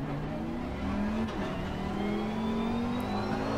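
A race car in Assetto Corsa Competizione accelerates out of a corner, its engine note rising steadily in pitch over a few seconds, fairly quiet and alone with no talk.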